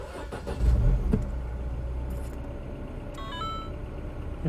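Mini One R56 2007 with Valvetronic engine, cold and prone to cutting out, turning over and settling into a steady idle hum, with a brief louder burst near the start and faint higher tones later.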